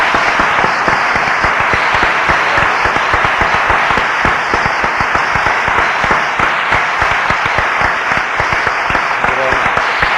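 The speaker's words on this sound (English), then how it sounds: "I really want to join with you in clapping him" A lecture audience gives a lecturer loud, sustained applause, a dense wash of clapping from many hands, with voices faintly underneath.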